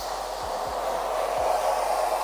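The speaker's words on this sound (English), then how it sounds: "So first job, I plug in the hose to the tap," A garden hose runs from a tap into a water butt, giving a steady broadband rush of flowing water, close and continuous, with a few faint low thuds underneath.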